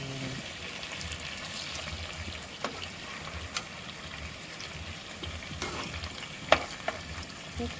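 Chicken pieces for a chicken roast fry in a pan as they are turned, giving a quiet, steady sizzle and bubbling with a few faint clicks and scrapes.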